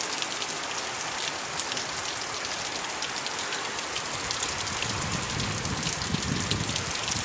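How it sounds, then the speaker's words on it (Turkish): Rain falls steadily in a village, a dense, even patter of drops striking surfaces nearby, continuous and fairly loud throughout with no talk. "Çok güzel yağmur yağıyor şu an."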